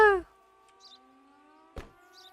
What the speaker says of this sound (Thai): เปิดไซเรนนะคะ